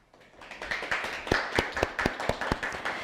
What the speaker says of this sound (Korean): 그럼 큰 박수로 조진호 작가님을 모셔볼까요?